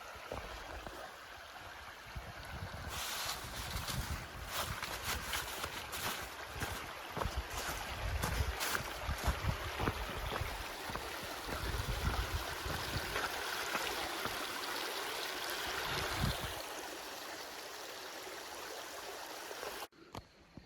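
Creek water rushing steadily at a hiking trail crossing on the Buffalo River Trail, a continuous broad wash of flowing water with some wind buffeting the microphone, close and fairly loud, no talking.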